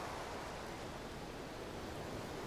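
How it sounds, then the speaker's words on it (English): Steady, muffled underwater wave ambience in the video game Pyre, a dense, even rushing wash with no breaks or distinct events, soft and continuous. "Sounds like we're heading below the waves."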